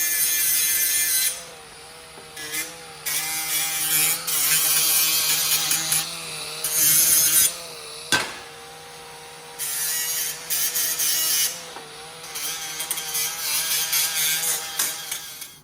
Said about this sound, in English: I have this little grinder. I think this will work perfect for this application.